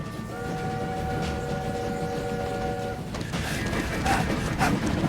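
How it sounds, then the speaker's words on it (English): Train running in the video game My Time at Sandrock, a steady rumbling rail roar with a sustained horn-like tone in the first part, then continuing rumble with brief clattering accents. "Stop the train."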